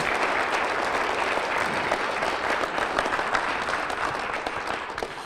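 Dense, continuous round of applause from a large convention crowd, many hands blending into a steady roar that holds strong throughout and eases slightly at the end.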